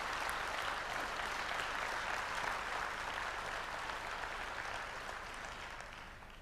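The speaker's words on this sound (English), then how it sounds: "Let's give him a big round of applause, Mr. X. Maughan." Steady applause from a crowd, broad and sustained, fading slightly toward the end with no voices over it.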